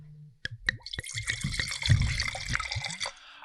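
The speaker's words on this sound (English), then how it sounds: "That was a beautiful Napa Valley pour this morning" Napa Valley wine is poured into a glass: a close, gurgling liquid stream with a few bright clinks, starting after a brief quiet moment and running steadily to the end.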